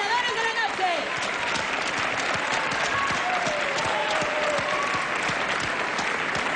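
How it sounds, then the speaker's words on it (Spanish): Strong, sustained applause from a television studio audience during a Eurovision preselection show, dense clapping held at an even level throughout with crowd voices mixed in. "Un fuerte aplauso, por favor."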